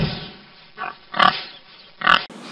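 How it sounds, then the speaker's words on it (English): A pig grunts several times, short snorty bursts spaced apart, fairly close, with quiet gaps between them. "Oh, look, Mr. Pig."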